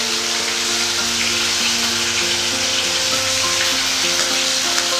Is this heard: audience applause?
no